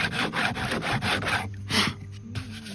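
Wood being worked smooth by hand for an all-wood raised floor, a rhythmic series of rough rasping strokes, close and fairly loud, that pauses briefly before resuming.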